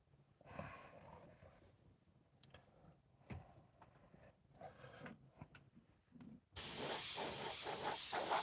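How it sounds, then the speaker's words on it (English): Quiet handling and faint rustling give way to a sudden loud, steady blast of compressed air spraying, which keeps hissing strongly to the end. "Just spraying air"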